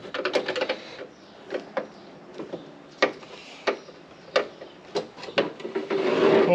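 Scraping, creaking and clicking bursts as the window felt guide is pried and pulled off an FJ40 door, irregular and close, ending in a longer rubbing scrape.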